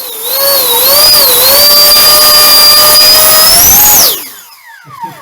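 A balsa-built Swallow model jet's electric ducted fan runs close and loud as a steady, high whine with sharp tones, wavering slightly, then spools down and fades away near the end.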